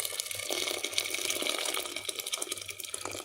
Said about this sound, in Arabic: حطينا في حله كده وهننزل عليه بميه سخنه